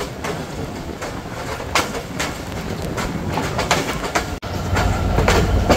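A passenger train rolls into Arani station on a rainy day, with steady rumbling and rhythmic clickety-clack of wheels over rail joints, close and continuous, and a brief dip near the end.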